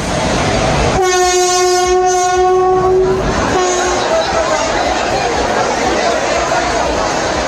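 A train at a crowded railway station sounds a loud, sustained horn for about two seconds, then a shorter blast, over rumbling rail noise and a constant background murmur of crowds.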